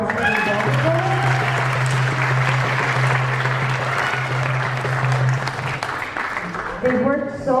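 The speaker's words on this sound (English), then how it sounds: "I want you all to give them a round of applause for their dance" Sustained applause from an audience at a student poetry slam after a dance performance rolls on for several seconds, with a held tone and scattered voices underneath, fading slightly toward the end.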